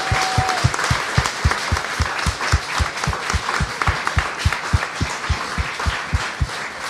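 Audience applause at a live taping of the French tech TV show 01LIVE HEBDO, a dense steady wash of clapping with a few sharper claps, loud and close throughout.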